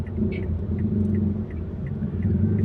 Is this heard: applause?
no